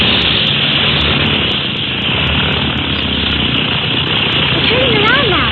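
A small float plane taking off as an old-time radio sound effect, a loud, constant propeller engine drone that swells slightly near the end, heard without talk over a narrow, lo-fi broadcast band.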